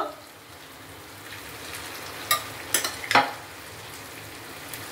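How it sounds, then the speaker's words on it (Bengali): Marinated mutton, rubbed with spices for four hours, goes into hot oil for a spicy red mutton curry. It gives a low, steady frying hiss with a few sharp spattering crackles in the middle, and no one speaks. "এর মধ্যে এবার আমি মাংসটা তুলে দেবো।"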